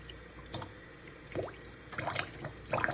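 Medical instruments rinsed by hand under running water, faint trickling and splashing in short bursts with soft metallic clinks, quiet and close.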